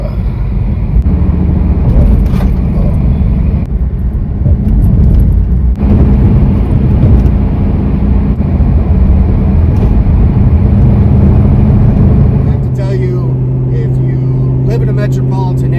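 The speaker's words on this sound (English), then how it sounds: "when they talked about that the Camaro Z28 rides rough, they weren't kidding" Inside a 2015 Chevrolet Camaro Z/28 on a rough road, a loud constant rumble of tires and engine fills the cabin, with a person talking over it most of the time before the noise settles to a steadier drone.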